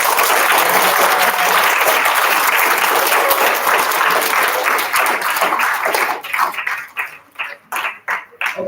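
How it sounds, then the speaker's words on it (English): Steady, loud applause fills the room as a youth group retreat audience claps for its speakers, then thins into scattered individual claps before dying out. "Let's give a round of applause for everyone who gave us talks."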